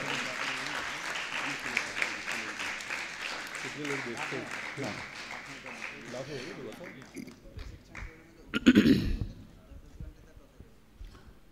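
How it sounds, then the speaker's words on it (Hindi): Audience applause at a Pandit Todarmal Snatak Parishad Sammelan gathering, a continuous moderate clapping that fades after about seven seconds, followed by a loud bump and quieter room sounds. "एक बार जोरदार तालियां हो जाएं उनके सम्मान।"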